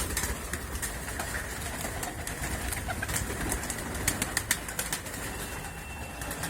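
Pigeons coo softly against a busy outdoor background, with a few brief sharp flutters and clicks partway through.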